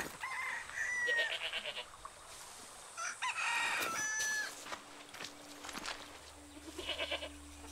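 Farm animals in the video game Far Cry 6, with goats bleating and a rooster crowing among game sounds and ambient noise, calls rising and falling over several seconds.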